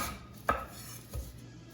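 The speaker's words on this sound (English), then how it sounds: "put the bottom, cut the root off, take the skin off." Two sharp knife strokes cut through a yellow onion on a board, about half a second apart, close and fairly quiet with no talk.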